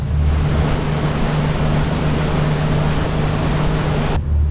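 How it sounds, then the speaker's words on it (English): Boat engines run hard at open throttle on salt water, a steady, loud broadband roar with a low droning hum underneath that holds constant throughout before cutting slightly near the end. "I'm just going to open the throttle for a couple of minutes just to like let the engines breathe"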